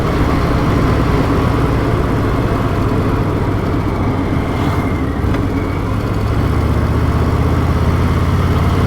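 Harley-Davidson Fat Boy motorcycle engine runs with a loud, steady low rumble that holds constant throughout, without any talking.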